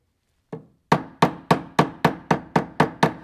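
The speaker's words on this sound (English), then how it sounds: "Use a nylon hammer, and you can rough out the shape" Ten sharp, evenly spaced nylon hammer taps shaping a metal bezel on a forming stake ring out close up after a single lighter tap, each a dull knock with a brief ring.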